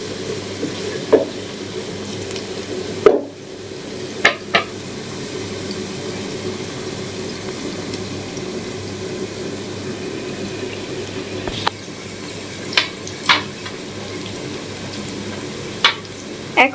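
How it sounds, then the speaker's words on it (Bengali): Cauliflower and mixed vegetables fry in a pan with a continuous sizzling hiss, broken by occasional scattered taps and clicks of a stirring spoon. "এখন হচ্ছে ভেজে নিব সবজিগুলো"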